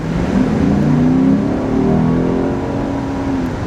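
A 472-horsepower sports car engine revs hard, its pitch climbing through gears in rising sweeps, loud and close with no talking.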